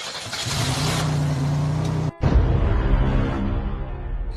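A car driving with a steady engine drone and road noise, cut by a brief dropout before the engine note resumes loudly and continues.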